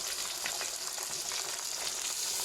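Ginger-garlic paste fries in a pan for potato pulao with a constant, dense sizzle. It sounds close and steady, broken only by soft stirring scrapes.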